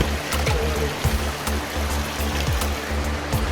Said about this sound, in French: l'eau qui sort de la résurgence du trou Madame provient en grande partie d'une perte située plus au sud